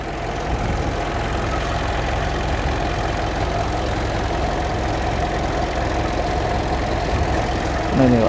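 A 2009 Mitsubishi Pajero Exceed engine idles steadily with a low, even mechanical drone close by, and a brief rise in level right at the end.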